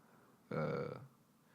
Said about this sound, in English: Excuse me, I got a burp.